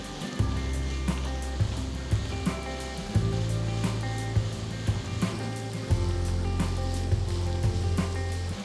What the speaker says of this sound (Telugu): ఇందులో నేను చిన్నగా తరిగిన రెండు మీడియం సైజ్ ఉల్లిపాయలు వేస్తున్నాను